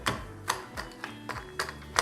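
Toffee pieces are crushed in a kitchen while making a peanut butter chocolate cake, producing a string of sharp, crisp cracks and taps at an uneven pace, close up and with no talking.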